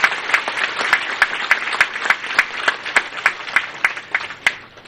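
An outdoor crowd at an EDSA anniversary event in Tanauan, Leyte claps for several seconds after the president's remarks, a dense patter of hands punctuated by regular sharp accents, fairly loud and steady before tapering off.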